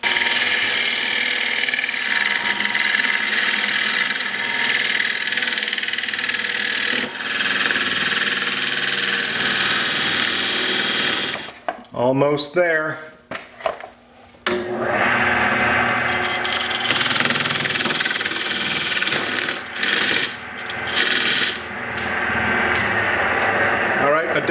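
A wood lathe parts off a donut chuck for holding bowl bottoms, the tool cutting steadily through the spinning wood. The loud, continuous scraping breaks off briefly midway, then resumes, and a person speaks briefly.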